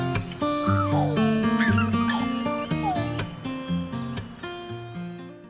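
A dog barks, yips and whimpers in quick, uneven bursts at close range, its high whines rising and falling between the sharper yelps.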